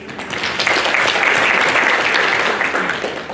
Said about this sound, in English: May we clap them, please?